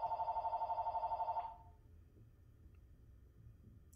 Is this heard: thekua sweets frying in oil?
no